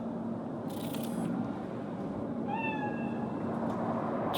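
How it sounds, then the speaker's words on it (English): A cat meows in the video game Cyberpunk 2077, a single drawn-out, falling mew rising from a steady low ambient hum, with a brief hiss of noise just before it. "Chill, just a cat."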